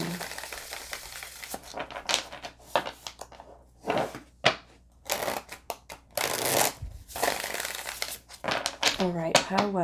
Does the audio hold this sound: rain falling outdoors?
no